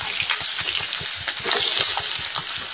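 Green chillies for egg bhurji fry in oil in a pan, a steady bright sizzle with rhythmic scraping of a spatula stirring, close and continuous without speech.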